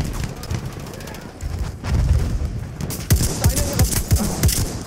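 Battlefield 1 multiplayer gunfire on PS4, bursts of sharp shots crackling in the second half over a rumbling battlefield bed, with someone talking intermittently.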